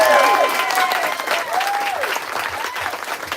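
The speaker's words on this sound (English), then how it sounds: "Can we get a round of applause for" Audience applause fills a bookstore event at Books Are Magic, a loud burst of clapping right away that gradually thins and fades over a few seconds.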